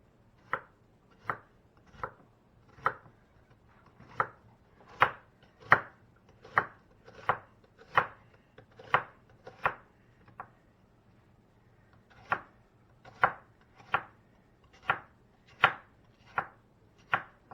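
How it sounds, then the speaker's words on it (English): An onion is chopped with a knife on a cutting board in a home kitchen while making slow cooker soup, with about twenty crisp, evenly spaced knocks, a short pause midway, and no talking. "I'm going to finish chopping this onion"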